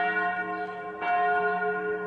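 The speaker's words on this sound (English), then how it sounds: "Bells at the Church of the Nativity summoned the faithful to celebrate Christmas" Church bells ring at the Church of the Nativity in Bethlehem at Christmas, a sustained resonant peal with a fresh strike near the middle, clear and without voices.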